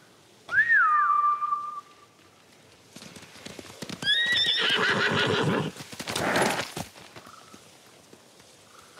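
In the Ghost of Tsushima video game, samurai horses return to their masters. A sharp whistle calls first, then whinnying and neighing follow, with a quick clatter of hooves as they gallop in close by.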